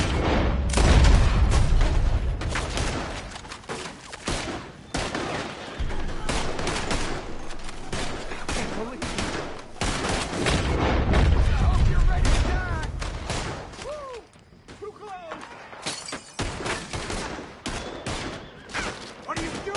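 Rapid gunfire from a Red Dead Redemption 2 shootout, dense volleys of shots and booming blasts crackling almost without pause across the whole stretch, with scattered voices talking and shouting underneath.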